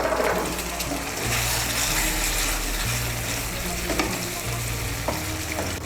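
Fried potatoes and cauliflower stirred with spices and a splash of hot water in a frying pan for fulkopir dalna, a close sizzle with repeated scraping stirs.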